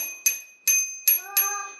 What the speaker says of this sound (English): And oh, it also has a bell.